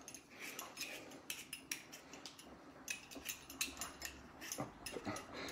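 Vegetables peeled by hand for a poule au pot: quiet, close scraping strokes and small metallic clicks in an irregular rhythm, with no talk.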